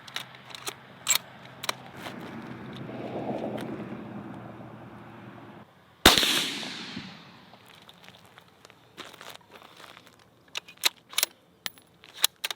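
An unsuppressed rifle with a muzzle brake fired at a steel target outdoors: one loud, sharp shot with a long fading blast and echo, around it scattered faint clicks and metallic ticks.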